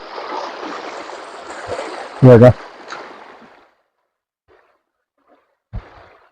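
Water trickles out from between rocks by a stream in the Konkan. The flow rushes softly for about three and a half seconds, then falls silent, with a short voice burst over it and another near the end.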